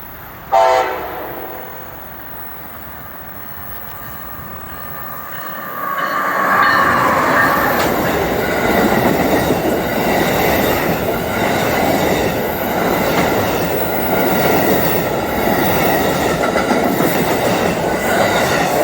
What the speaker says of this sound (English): And there's the Amtrak to Philly.